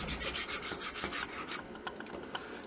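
A piece of Teflon is rubbed hard over a contact-cemented surface on a laminate job, giving close, steady scraping strokes with a few sharper scuffs near the end, and no voices.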